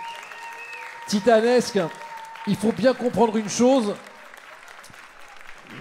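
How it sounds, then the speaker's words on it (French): An audience claps steadily for the five finalists at a regional burger-making contest final, the applause carrying on beneath someone speaking into a microphone. "on peut applaudir très très fort les cinq finalistes qui ont fait un travail"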